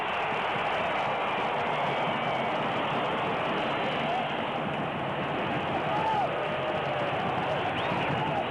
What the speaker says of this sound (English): This crowd sitting in the sun in 95-degree heat, applauding the play